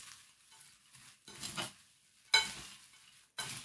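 Mixture for sand rose treats stirred in a bowl with a utensil, in three scraping, rustling strokes separated by short quiet gaps, close and soft, no talking.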